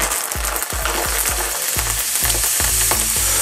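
Garlic sizzles steadily in a hot pan, with rhythmic low knocks and scrapes of stirring throughout; no talking.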